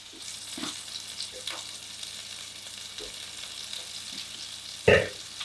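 Meatballs browning in a frying pan, a soft continuous sizzle broken by a few light knocks and stirs and one louder clatter near the end, with no talk.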